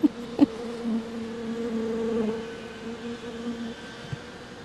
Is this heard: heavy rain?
no